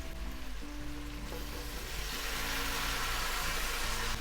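Tomatoes added to a hot frying pan of browned ingredients for a homemade kozhe give a steady, close sizzle over a low continuous hum, with no talking.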